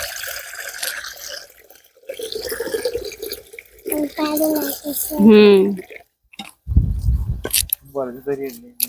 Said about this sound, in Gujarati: પાણી રેડ દઈએ હે ક્રિશાંગ?